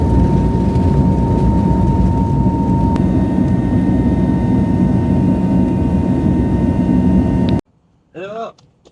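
Steady broadband roar of a Turkish Airlines jet airliner's engines in flight, loud and continuous with a faint steady tone, cutting off near the end before a brief muffled sound.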